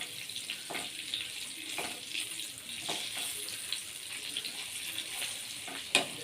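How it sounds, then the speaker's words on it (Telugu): Stuffed brinjal frying gently in oil over a low flame, a steady soft sizzle with faint bubbling and occasional light stirring clinks, close and continuous without speech. "ఇది చిన్న మంట మీదే ఇలా వేగుతుందండి."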